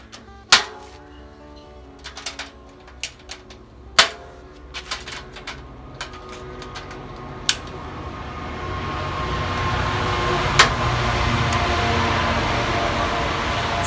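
A train rolls past, its rumble building steadily, with scattered sharp clicks and clanks from the rails along the way.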